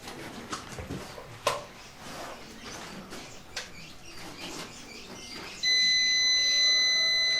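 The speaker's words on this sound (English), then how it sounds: "It sounds an alarm." An overloaded solar power system sets off its alarm, a steady electronic tone that starts abruptly after a few seconds of quiet background noise and holds loud and unbroken to the end.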